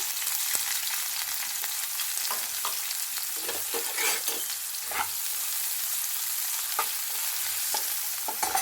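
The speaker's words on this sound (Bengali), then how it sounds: "আমি ভেজিটেবিল অয়েল দিয়ে দিয়েছি টু টেবিল চামচ আমি পেঁয়াজ দিয়ে দিলাম" Chopped onions fry in two tablespoons of hot vegetable oil, giving a steady close sizzle with occasional spoon clinks and stirring scrapes against the pan.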